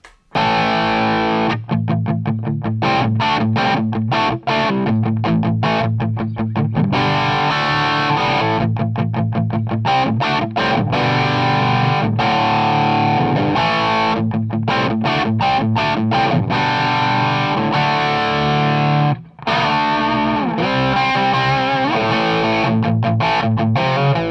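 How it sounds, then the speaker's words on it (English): Heavily distorted electric guitar through a Marshall-style amp model on a Line 6 rig with Variax, DT25 head and Pod HD500, playing dense chords and riffs loudly and continuously, with a few brief stops and restarts. "So this is just the Marshall type sound."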